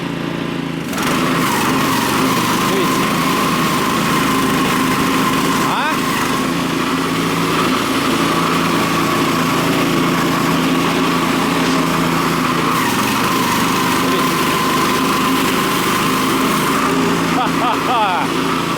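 Small engine of a walk-behind tractor with a sweeper attachment starts and runs steadily, a loud continuous buzzing drone close by that holds its pitch throughout, with a voice speaking over it.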